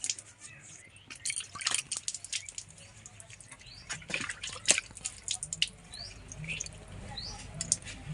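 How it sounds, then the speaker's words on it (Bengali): Someone splashes water onto their face at close range: irregular patters, drips and wet slaps come in quick bursts, then quieter trickling, with no talking. "এবার আমি মুখ ধুয়ে নেবো"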